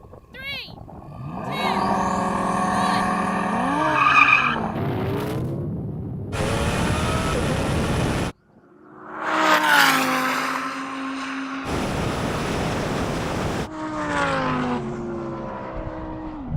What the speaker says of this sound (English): However, let's do a drag race.